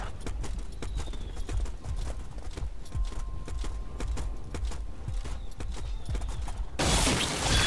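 Horse hooves gallop in a video game joust, a steady rapid clatter of beats throughout, ending in a sudden loud crash or impact burst.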